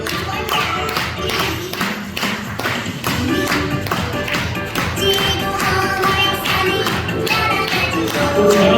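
Children's class stage show where the audience is asked to clap along, with steady rhythmic taps and thuds repeating throughout under music and some voices.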